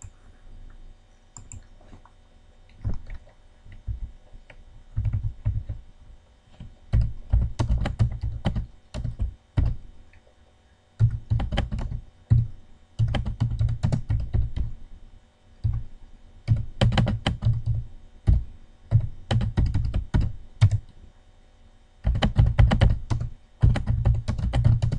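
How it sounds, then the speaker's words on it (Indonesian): Typing on a computer keyboard while entering a title and starting data, heard as close, irregular bursts of key clicks separated by short pauses, with no talking. "Berikutnya kita ketik judul dan data awal."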